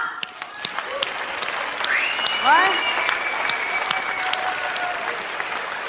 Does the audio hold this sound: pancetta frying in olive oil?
no